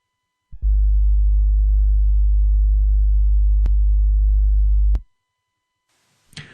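A steady low-pitched test tone from a Pro Tools signal generator drones for about four seconds, interrupted by two sharp clicks, then stops; a brief rustle follows.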